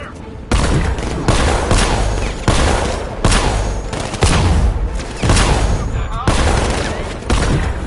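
Enemy gunfire in Batman: Arkham Knight, a loud, dense fusillade of repeated bursts in close succession that fills the whole stretch with heavy, booming shots.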